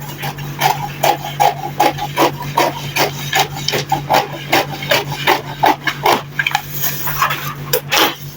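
Scissors cutting fabric for an overlapped crop top with bell sleeves, a steady run of close, crisp snipping and rasping strokes in a quiet room.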